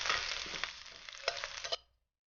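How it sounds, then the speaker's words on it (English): Garlic browning in one to two tablespoons of oil in a preheated pan over medium heat, giving a bright, steady sizzle with small crackles and pops that cuts off abruptly near the end. "Brown the garlic over medium heat."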